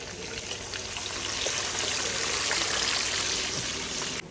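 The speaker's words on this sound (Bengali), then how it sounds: "তেলে ঢেলে দিচ্ছি।" Pangas fish going into hot oil in a large pot cooking for a madrasa, a loud, dense rushing hiss that swells and holds steady, then cuts off abruptly at the end.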